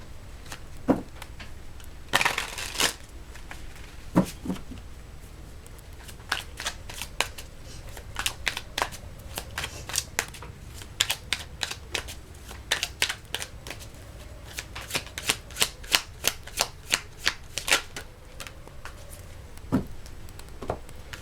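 A deck of tarot cards is shuffled close up, with repeated crisp riffles and flicks in irregular bursts over about twenty seconds, quiet and without talk.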